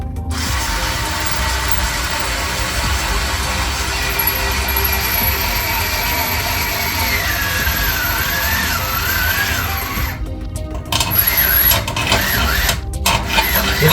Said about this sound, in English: This drill's pretty tough.